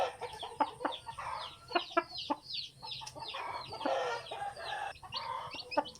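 A fighting rooster, a hundred-baht class gamecock, clucks and calls in a rapid run of close, fairly loud bursts over a quiet farmyard background, with no one talking.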